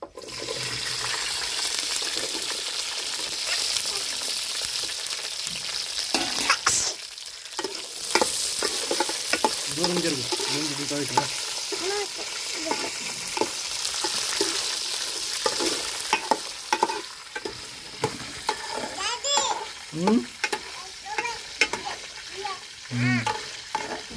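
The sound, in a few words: green chillies frying in oil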